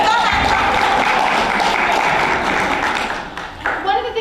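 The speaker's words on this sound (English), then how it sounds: "You can clap." Audience clapping at a school board of education meeting, a steady sustained patter of applause that thins out toward the end as a voice begins speaking.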